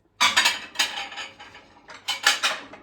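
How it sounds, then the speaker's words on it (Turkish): Plates and spoons clattering together in quick bursts, close by, with a short lull before another round of clinking dishes. "Ne kadar tabak kaşık var ya."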